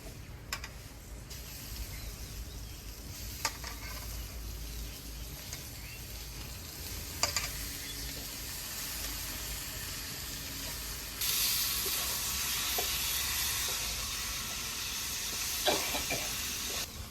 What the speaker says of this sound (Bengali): কষানো হয়ে গেছে, তেল ছেড়ে দিয়েছে, এবার মাংসটা দিয়ে দেবো